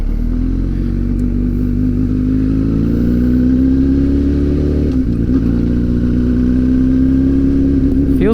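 Honda CBR1000RR liter-class motorcycle engine under way, a steady droning hum with a slowly climbing pitch and wind rush throughout, one brief drop and recovery partway through.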